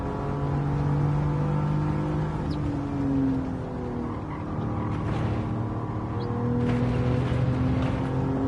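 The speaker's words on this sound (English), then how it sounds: "Hard on the accelerator now," A race car in Gran Turismo 7 at Monza accelerates hard, its engine note climbing in steady sustained tones, loud and close, with a brief gear change mid-run and no talking.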